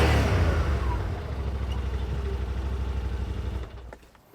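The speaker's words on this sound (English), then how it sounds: "The exhaust sounds really nice too." A 2024 Yamaha Wolverine X2 1000 SE UTV engine revs with a deep exhaust bark, dropping into a rapid, pulsing idle rumble before cutting off, close and loud with no talk.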